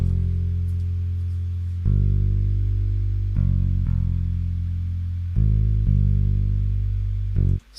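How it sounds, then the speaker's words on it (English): Bass line for a hip-hop beat, playing the same notes as the synths: deep sustained low notes that change in blocks every second or two, loud and alone with no voice. "Then I had the bass, which is just the same notes I actually used with the synths"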